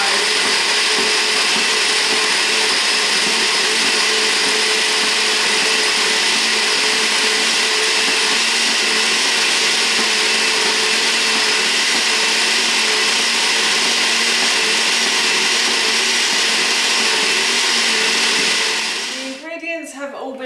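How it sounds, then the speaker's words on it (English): A blender grinds oats into fine flour with a loud, steady, high-pitched whirring roar that runs unbroken for about nineteen seconds, then winds down and rattles as it stops. "if you don't use one of these, the oats tend to get stuck at the bottom of the blender"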